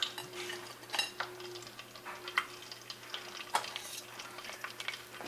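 Pork skins fry in grease heated to 350–400 degrees, making a quiet, crackling sizzle with scattered pops and light clinks of metal utensils against the pot.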